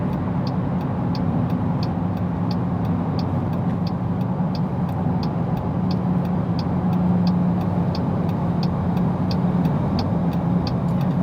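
A 2021 Jeep Grand Cherokee L cruising steadily on the road at about 1850 RPM, giving a constant, even low engine and road-noise rumble inside the cabin with faint regular ticking above it.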